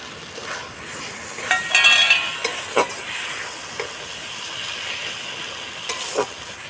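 Ginger garlic paste and a splash of water hitting a hot pan of jackfruit and prawn curry base, a steady close sizzle with a few louder spatters and soft stirring clinks, no talk.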